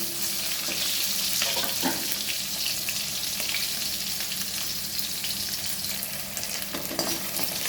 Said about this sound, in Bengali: এবার আলুটা ভেজে তুলে নিই